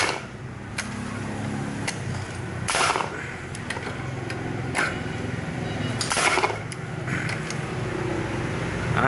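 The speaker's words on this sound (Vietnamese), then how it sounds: "giờ bắn đinh 90 cây này, cây Hitachi NV90AB" A Hitachi NV90AB nail gun fires several sharp, loud bursts at irregular intervals into a workpiece, heard nearby over a constant mechanical background hum.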